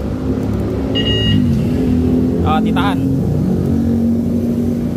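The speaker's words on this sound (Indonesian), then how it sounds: "Starter dari remote." Motorcycle engine brought to life by an MP One alarm's remote starter, with a short chirp and then a steady close idling rumble while someone talks briefly nearby.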